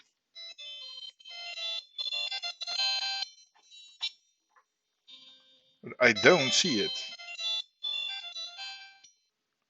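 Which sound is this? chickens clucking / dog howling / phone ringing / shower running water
phone ringing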